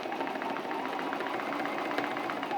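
A sewing machine stitching free-motion quilting on a spinning sun quilt block, running in a steady, fast, even whir with a rapid needle rhythm, close and continuous with no talk.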